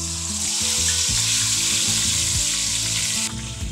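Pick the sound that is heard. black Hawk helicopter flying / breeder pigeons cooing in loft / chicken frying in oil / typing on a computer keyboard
chicken frying in oil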